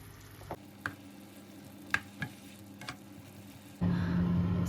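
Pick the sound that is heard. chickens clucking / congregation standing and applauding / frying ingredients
frying ingredients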